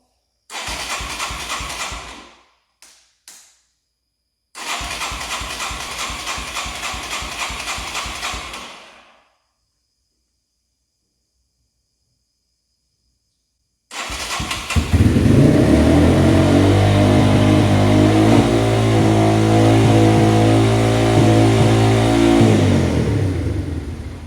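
A 1989 Yamaha Moto4 200 ATV being started: two loud cranking bursts separated by short gaps and silence, then the engine catches and runs steadily at a high, slightly hot idle with revving, close and loud.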